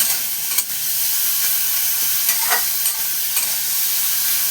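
Pointed gourd frying in a pan for a stuffed gourd dish, a steady loud sizzle broken by a few sharp scraping stirs of a utensil, with no one talking.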